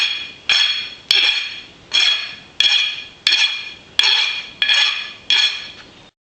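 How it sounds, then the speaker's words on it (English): A metal file scrapes burrs off a freshly cut steel piece for a giant robot build: about nine evenly spaced rasping strokes, each starting sharp and fading, close and clear with no talk. "Next is filing off the burrs."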